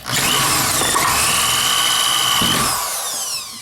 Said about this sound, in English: Then you want to drill out the long side of your L-Lock.